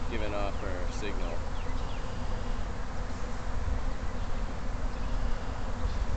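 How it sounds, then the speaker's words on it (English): Honey bee swarm buzzing densely around a hive during a rehiving attempt outdoors. The drone is continuous and close, with a few individual bees flying past. "Those were like searcher bees that are kind of coming back from looking."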